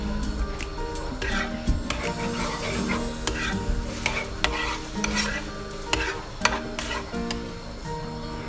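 Butterfly pasta with ham in a cream sauce stirred in a pan, a steady scraping and clinking of utensil against metal over a low sizzle, with sharp knocks recurring throughout.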